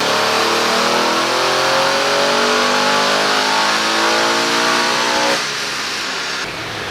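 A Stage 3 Audi RS7 running on E85 roars at sustained full throttle on a dyno, the engine note climbing steadily for about five seconds before it abruptly drops off, loud and close with no talk.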